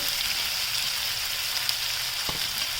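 Chillies frying in a hot pan for paneer bhurji, a steady loud sizzle with a single faint clink partway through.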